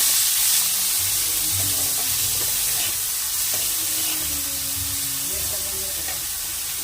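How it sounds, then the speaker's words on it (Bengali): Eggplant and chopped green chilli frying in hot oil, giving a steady close hiss of sizzling with a few soft stirring knocks, no talk over it. "তেলটা গরম হয়ে গেছে বেগুনটা ভাজতে দিয়েছি"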